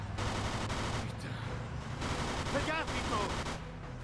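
Gunfire in the Mafia 2 video game, rapid bursts of shots rattling continuously over engine noise and game sounds, with voices speaking over it.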